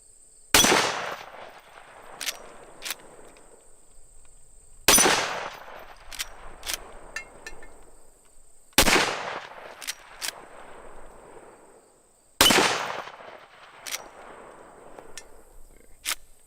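Four loud, sharp gunshots spaced about four seconds apart, each firing a semi-jacketed soft point round, with every crack trailing into a short outdoor decay before the next, plus a faint steady high whine throughout.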